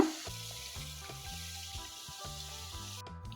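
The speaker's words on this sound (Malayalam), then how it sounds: "ഇതെല്ലാം ഒന്ന് ഫ്രൈ ആയി വരട്ടെ" Okra frying in hot oil for a ladies finger pickle, a steady soft sizzle running throughout beneath louder melodic background music.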